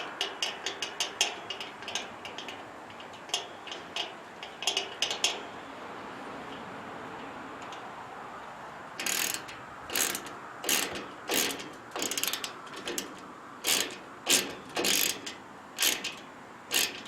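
A ratchet wrench tightens bolts on a Jayhawk X Stand treestand with rapid ticking clicks. Quick bursts of ratcheting come first, then a steadier run of louder, evenly spaced clicking strokes, close up and with no talking.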